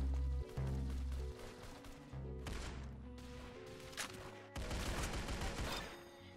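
Bursts of rapid gunfire from the Roblox-style shooter game Arsenal rattle in overlapping volleys, loud and dense, with brief pauses between flurries and no talking over them.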